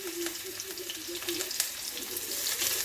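Rice and green chillies frying in ghee in a pan for Bengali basanti pulao, a steady close sizzle with scattered crackles and light stirring scrapes throughout.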